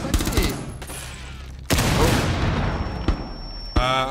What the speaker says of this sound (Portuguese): Aqui, tá trocando tiro comigo.